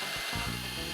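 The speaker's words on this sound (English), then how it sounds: "First, I drill a small hole in the end of a strip of wood." A power drill bores a small hole in the end of a strip of wood, a brief, loud, steady whirring buzz heard up close with no talk.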